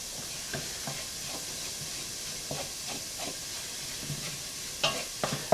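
Garlic sizzling in a pan before mashed potatoes, a steady hiss broken by repeated scraping stirs that grow busier near the end, close and without voices.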